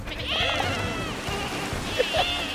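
Several wavering sheep bleats from the video game Lumberhill ring out over a busy game bed, with players chattering in the background.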